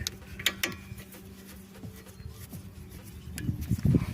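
Ratcheting clicks from tightening the brake caliper nuts on a Hyundai Tucson CRDI, with several close mechanical bursts and scrapes that grow louder and denser toward the end.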